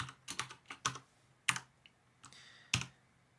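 Code being typed on a computer keyboard, a quick irregular run of close, crisp key clicks with brief pauses between bursts, no talking.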